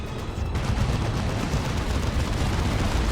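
Missile fire in the strategy game Dawn of War 2, from twin missile-armed sentinel walkers, rolls on as a dense, continuous rumble of launches and impacts for about three seconds, loud and steady with no voices over it.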